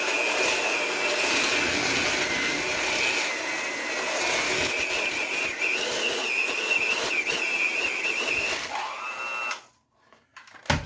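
A handheld electric mixer beats sugar and cream cheese together, its steady high whine running loud and close for several seconds, pitch wavering slightly as it works, before it cuts off abruptly near the end.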